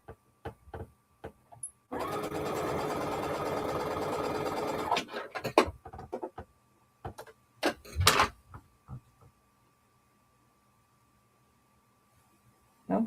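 A sewing machine stitches small ornament pieces for a quilt block in one continuous run of about three seconds, close and fairly loud, framed by scattered clicks and taps of fabric handling before and after.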